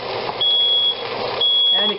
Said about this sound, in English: excuse me while I deal with the smoke alarm